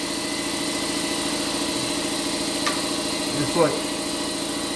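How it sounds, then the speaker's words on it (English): A 32-gallon 110 V AC air compressor runs steadily in a workshop while a short block is prepped, a continuous motor drone with a brief voice spoken over it near the end. "Give the compressor a second to catch up."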